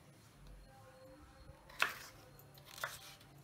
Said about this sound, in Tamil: காய்கறியெல்லாம் கொஞ்சம் பெருசு பெருசாக கட் பண்ணுறேன்